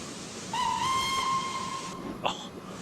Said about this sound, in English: Oh, listen to that whistle.